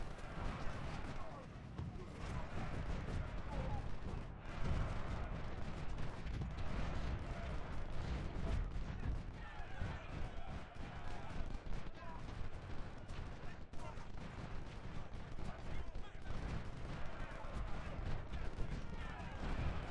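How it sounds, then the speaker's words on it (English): Booming artillery fire in the Ultimate General: Civil War game, Fredericksburg battle: dense, continuous rumbling cannon blasts and gunfire with someone talking over the barrage. "my artillery fired away at his artillery"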